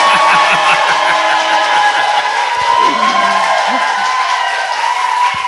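Applause and cheering from a crowd at a Korean political talk show, a dense sustained wash of clapping with voices mixed in, steady and loud throughout.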